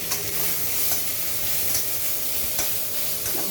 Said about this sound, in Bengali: শাকটাকে ভেজে নিই।